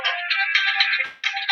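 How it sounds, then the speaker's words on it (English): A phone ringtone plays close and loud, a bright electronic tonal melody in two bursts separated by a short gap, with nothing else audible. "My phone's ringing."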